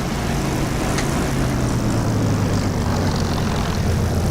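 Propeller aircraft taxiing in the DCS flight simulator game, a steady, loud engine drone with a sustained low hum and no pauses.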